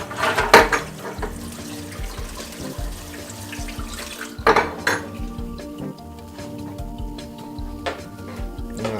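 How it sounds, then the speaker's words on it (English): Tap water runs into a kitchen sink over a meat hammer, a steady splashing wash broken by a few clinks and knocks of metal against the basin. "We're going to run some water over it."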